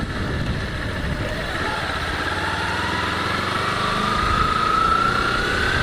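A 2008 Kawasaki Ninja 250R motorcycle engine drones steadily up close while riding through the gears, a buzzing mid-pitched hum whose tone slowly climbs as revs rise, with no talking.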